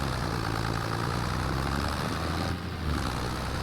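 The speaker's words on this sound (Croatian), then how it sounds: "Slušajte vi taj traktor kako se čuje." John Deere 116 hp tractor in Farming Simulator 25 hauling a tanker with 6000 litres of water up a hill. The engine drones steadily and loudly with a low, heavy rumble and a slight dip near the end.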